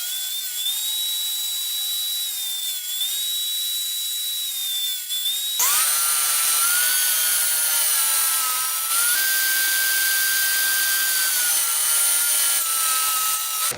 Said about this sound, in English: Just use my feather board and I could start ripping a whole bunch of thin pieces to make up the tops and bottoms of the pallet.